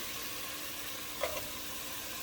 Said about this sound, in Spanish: Revolvemos bien, que no se vaya a quemar.